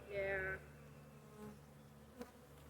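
A honey bee swarm buzzes close by, one strong, tonal drone swelling briefly and then dropping to a faint background hum, with a soft knock near the end.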